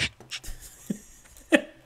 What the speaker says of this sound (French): Il y a les chiens.